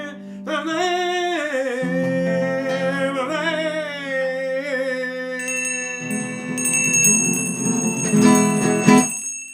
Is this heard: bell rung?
yes